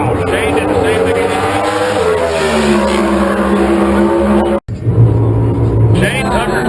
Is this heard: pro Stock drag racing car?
yes